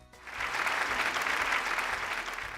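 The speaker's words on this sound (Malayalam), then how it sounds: "നല്ല കൈയടി അടിച്ചേ" Studio audience applauding on a Malayalam television game show, a steady burst of clapping that swells quickly and holds at moderate loudness before easing slightly.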